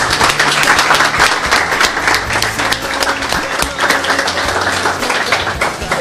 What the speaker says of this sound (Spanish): quiero que entre todos les rindamos un fuerte aplauso a Amanda